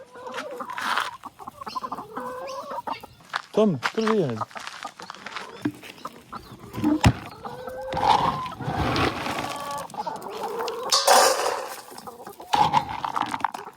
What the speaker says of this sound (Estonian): Kanad?